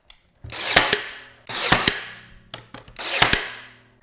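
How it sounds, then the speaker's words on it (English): Nails, 1 1/4 inch, driven through a top wooden board into a bottom board for a DIY Christmas gift: three loud, sharp bursts, each a quick double snap followed by a decaying hiss, spaced about a second apart. "And then we're going back with 1 1/4 inch nails through that top board and into"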